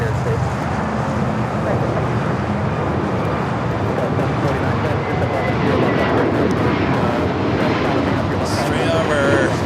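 A jet airliner passes low overhead near LAX in Los Angeles, its broad roaring rumble filling the scene continuously while people talk underneath.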